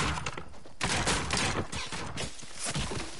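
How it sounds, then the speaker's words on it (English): Rapid bursts of gunfire crack out in a shooter video game, several quick volleys of shots clustered together, loud and close. "Ow, who's shooting me?"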